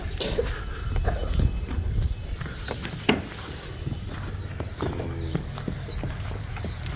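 A calf's hooves clop in uneven steps as it is untied and led away in a village yard, close but soft over background outdoor noise, with a faint voice.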